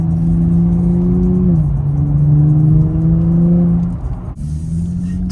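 A 2023 Nissan Z in sport mode accelerating hard on the street, its engine drone climbing steadily through a gear change, loud and close inside the cabin, then a sharp shift near the end.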